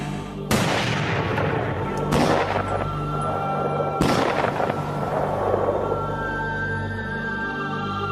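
Rifle shots fired outdoors in a wildlife setting, three sharp loud cracks spaced a couple of seconds apart, each followed by a rolling echo that fades into quiet background.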